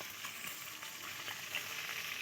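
Pieces of pangas fish fry in hot oil, turned one side at a time, giving a steady, dense close-up sizzle with no pauses and no talk.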